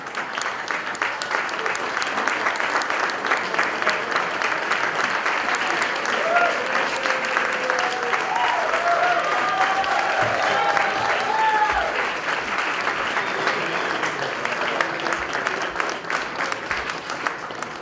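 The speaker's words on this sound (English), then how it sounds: "let's give this big man a big round of applause. Let's give him an ovation" A large audience gives a long ovation. Dense, steady clapping fills the full stretch without a break, with scattered cheers mixed in.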